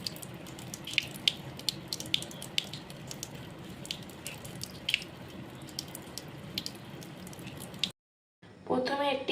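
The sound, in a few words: water running while washing the face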